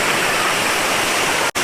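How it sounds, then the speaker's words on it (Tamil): A waterfall in the Jawadhu hills, at a bathing spot near the closed main falls, makes a loud, steady, close rushing roar that continues almost unbroken, with one brief dropout near the end. "வேற மாதிரி இருக்கு வாட்டர் ஃபால்ஸ்"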